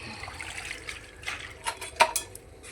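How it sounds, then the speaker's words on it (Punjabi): Cut saag greens being washed and swished in water, with soft splashes and trickling, a sharper splash near the end, close and moderately quiet with no voices. "ਕੱਟਣ ਤੋਂ ਬਾਅਦ ਫਿਰ ਮੈਂ ਇਹਨੂੰ ਕੀਤਾ ਪਾਣੀ ਦੇ ਵਿੱਚ ਚੰਗੀ ਤਰ੍ਹਾਂ ਧੋ ਲਿਆ"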